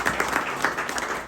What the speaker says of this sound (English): we gotta give a round of applause to Mr. Hill.